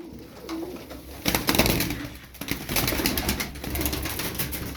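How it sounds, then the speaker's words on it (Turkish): Soft, low cooing from a male pigeon, a milk-white feather-footed breed, repeats in short phrases, with rustling and flapping noise around it. "Sol taraftaki erkek ötüyor zaten."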